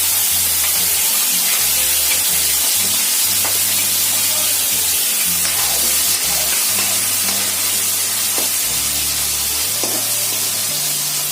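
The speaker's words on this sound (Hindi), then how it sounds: "जैसे जीरे होने लगते हैं तो अपन प्याज डाल देते हैं।" Onions hit hot oil with cumin for a dal tadka tempering, making a loud, steady sizzle and crackle that continues without a break, with faint stirring underneath.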